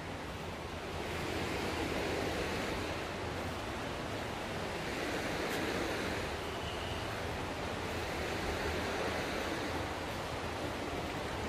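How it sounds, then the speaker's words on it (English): Water rushes steadily beneath an old covered bridge in Tennessee, a constant broadband roar of flowing current that stays even and unbroken, with no voices. "You can walk through here and listen to the water."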